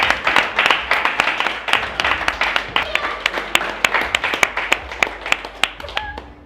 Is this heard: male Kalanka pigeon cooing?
no